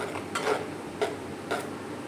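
A spoon stirs ground coconut paste into a pot of pulissery curry, three or four soft scraping strokes spaced evenly over a quiet background.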